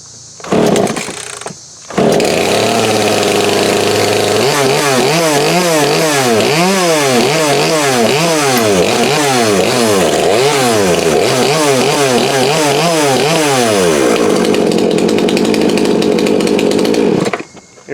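A Craftsman chainsaw runs steadily after a carburetor install, its engine loud and close, rising and falling through repeated revving swells before settling to a constant idle-like drone.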